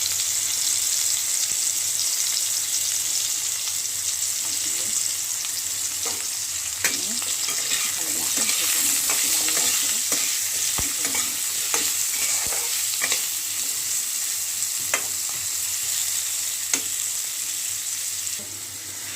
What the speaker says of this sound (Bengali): আলুটা ভাজা হয়ে গেছে, আমি তুলে রাখছি আলুগুলো।